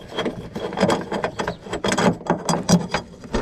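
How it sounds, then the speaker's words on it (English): A 10mm socket ratchet loosening nuts on an Audi A4 plate light assembly: rapid, close clicking strokes in an uneven rhythm, with woody mechanical rattles and no voices. "I'm gonna use a 10mm socket. Take those off."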